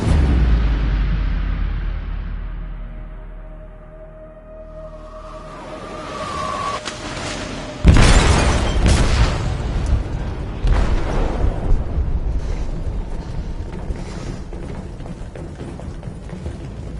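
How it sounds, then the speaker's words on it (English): A deep, rumbling explosive blast goes off in a ship's hold in the video game Detroit: Become Human, bursting loudly at about eight seconds after a low swelling rumble and leaving a long roaring, crackling tail of debris and rumble. "They detonated an explosive in the hold."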